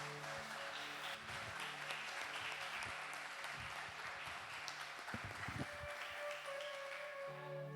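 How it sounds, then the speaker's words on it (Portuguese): Church congregation applauding at a worship service, a steady, even wash of clapping throughout, heard faint and at a distance. "Você pode aplaudir ao Senhor?"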